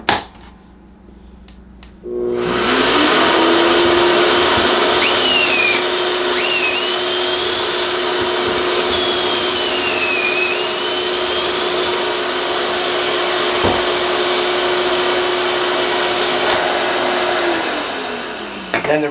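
A shop vacuum attached to a Kreg 720 pocket hole jig runs with a loud, steady whine and hiss for most of the stretch after a quiet start, with faint drilling tones shifting over it.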